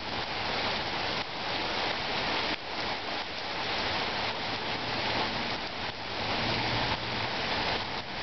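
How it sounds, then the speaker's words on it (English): Steady rain pattering on surfaces, a dense continuous hiss with scattered drops, moderately quiet and without voices. "It is raining out."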